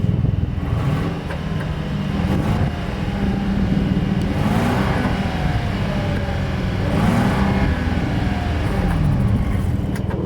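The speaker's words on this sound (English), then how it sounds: "As always, here is that exhaust clip." Exhaust of a 2026 Mercedes-Benz S-Class, heard up close as a steady idle broken by two revs that swell up and fall back, one midway and one later, with no voices.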